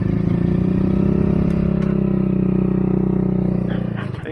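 A motorcycle engine idles and hums steadily on a rocky trail at Broad Run on Stone Coal Road, close and loud, then sputters and fades near the end.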